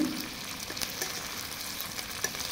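Tomato and green chilli sizzle steadily in a pan, an onion-free masala base for a sea fish curry, a continuous close hiss with faint scraping stirs and no voices.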